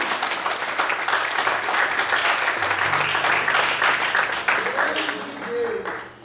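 Church congregation applauding during a sermon, a full, sustained roar of clapping mixed with raised voices and cheers, dense and loud from start to finish before tapering at the end.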